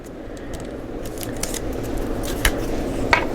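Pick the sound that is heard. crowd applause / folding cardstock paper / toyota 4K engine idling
folding cardstock paper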